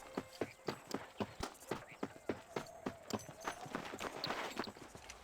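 Horse hooves in Red Dead Redemption beat out a regular clip-clop at a walking pace, crisp and close, with about a dozen evenly spaced strikes over a soft background.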